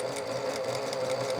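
Industrial sewing machine stitching a fabric pillow cover with a zipper, a steady close whirring hum that runs without a break.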